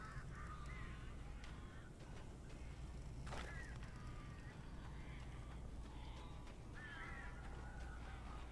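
Crows cawing in the video game Alan Wake, several harsh calls repeating over a steady low ambient drone, fairly near and spaced a few seconds apart with no talk.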